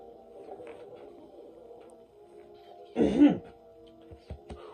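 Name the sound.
throat clearing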